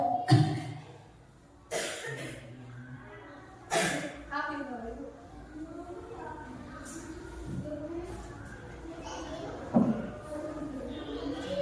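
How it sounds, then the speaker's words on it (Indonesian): Several short coughs from a teacher during an online training session about positive school culture, bursting out between stretches of speech in a quiet indoor room. "Ampunten ya Bapak Ibu karena sedang batuk."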